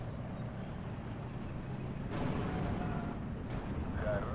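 Game artillery fire from 105 mm guns in a Steel Division 2 WWII battle, with a rumbling battlefield bed and sharp booming reports near 2 and 3.5 seconds.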